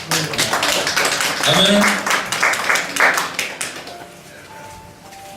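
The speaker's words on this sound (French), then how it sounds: "Acclamez pour le Seigneur." Church congregation clapping and applauding to praise the Lord during a French-language service, a loud burst of mixed claps under voices and a spoken amen, fading toward the end.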